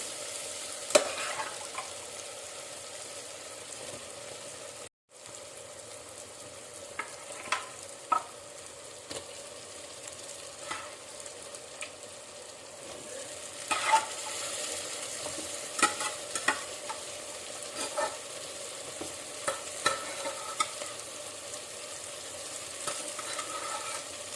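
Mutton pieces frying in a little hot oil for a Telangana-style curry, with a steady low sizzle and repeated scraping stir strokes close by, continuing for a long stretch with no talk.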